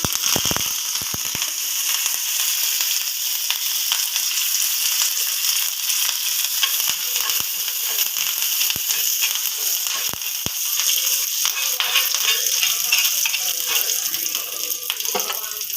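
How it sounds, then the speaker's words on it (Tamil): Curry leaves crackle in hot oil for a vala karuvadu dry fish fry, giving a loud, steady sizzling hiss with scattered sharp pops and no voices. "இப்போது கொஞ்சோண்டு எண்ணெய் ஊற்றி கொஞ்சம் கருவேப்பிலை படப்படன்னு அடிக்கும்"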